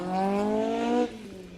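Escort rally car on a Mull Rally stage, a loud, steady engine note with strong harmonics that holds for about a second, then drops away abruptly to a quieter rumble as it passes.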